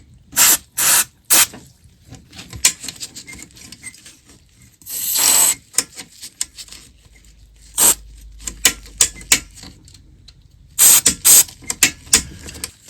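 Short hissing bursts of cleaner spray hit the controls of a 1938 Philco 38-62 antique radio, coming in repeated pairs and clusters with quiet handling rubs and clicks between them.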